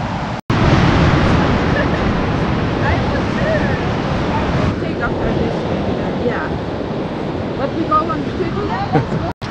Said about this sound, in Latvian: Man ļoti patika liela viļņi.